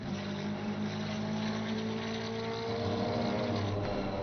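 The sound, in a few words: GT4 race car engines at Laguna Seca, video game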